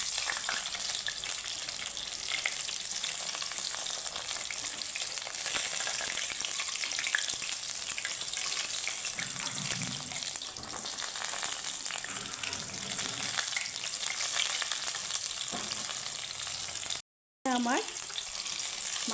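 Fish fries in oil over a low flame, a steady close crackling sizzle that runs on for a long stretch with a brief silent gap near the end.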